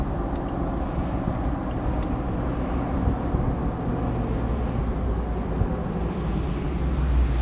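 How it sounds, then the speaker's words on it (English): A 1977 Ford Bronco's V8 drones steadily alongside loud tire roar while off-roading, a continuous low rumble from inside the cab with no talking. "when the tire roar is as loud as the V8, that's how you know you're off-roading correctly"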